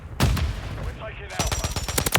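Gunfire rattles in the Call of Duty Modern Warfare 3 map Rust during a Domination match: a sharp opening shot followed by a rapid automatic burst of close, loud reports.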